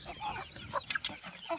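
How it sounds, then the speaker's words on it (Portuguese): Young Balão GSB chickens cluck in short, close bursts of calls, with several calls bunched together in the middle. "Aí, alguns frangos."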